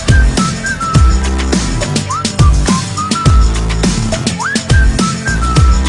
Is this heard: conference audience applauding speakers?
no